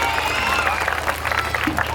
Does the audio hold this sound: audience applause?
yes